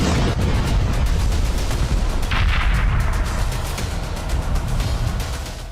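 Iranian missile strikes hit Rehovot, Israel, producing loud, booming explosions and rolling blasts in a dense, continuous barrage that fills the whole stretch without any voices.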